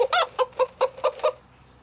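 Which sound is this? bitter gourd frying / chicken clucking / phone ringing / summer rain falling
chicken clucking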